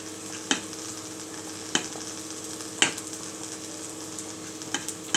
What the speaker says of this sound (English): The pan is off, but it's still cooking the egg.